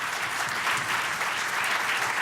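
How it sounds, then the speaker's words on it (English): Steady, dense applause fills a conference room at the closing of an education summit, a sustained wash of many hands clapping at even loudness throughout. "perhaps with a round of applause, the amazing hotel staff that has done so much for us this week"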